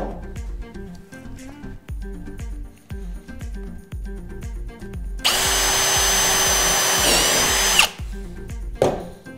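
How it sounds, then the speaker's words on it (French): A power drill bores a clean, splinter-free hole through a workpiece, starting with short repeated bursts, then a loud steady high whine for a few seconds that winds down, followed by brief rattling taps. "Une fois le perçage fait d'un côté"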